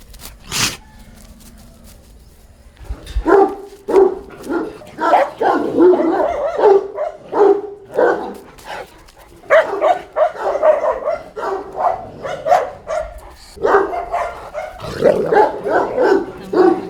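Several dogs being let out again after weeks of treatment bark repeatedly in loud, irregular bursts nearby, with a few yips and whimpers between, after a quiet opening.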